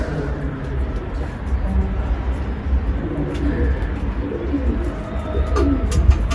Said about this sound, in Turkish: Bunlar çok sevdiğim güvercinlerin yavruları arkadaşlar.